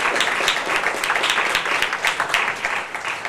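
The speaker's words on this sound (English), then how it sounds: "I want to give them a big round of applause" Conference audience giving panelists a round of applause, dense continuous clapping from a full room, fairly loud and steady, with no talk over it.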